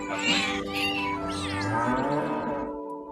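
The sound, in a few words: cat meow sound effect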